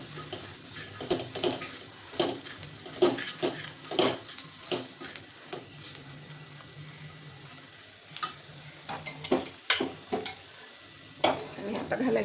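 A spoon or spatula stirs pav bhaji masala and coriander in a hot pan, giving repeated scraping clinks over a faint steady sizzle.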